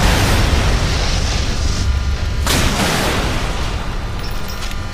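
A missile strikes its target in a naval warfare game, a loud, sustained booming roar with a sharp blast midway, then a slow fade, with no voices.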